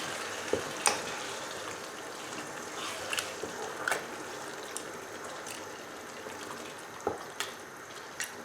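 Chopped tomato sauce for a lasagne bubbles and sizzles in a pan while it is stirred, with soft scattered clicks and scrapes of the utensil against the pan over a low simmering hiss.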